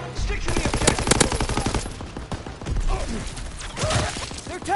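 Busy World War II video game battle with tanks, rattling bursts of close gunfire and scattered shots overlapping with shouting voices.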